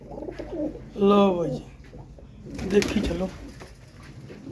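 Pigeons offered for sale in Punjab coo in a few short, loud, nearby bursts, mixed in with someone talking.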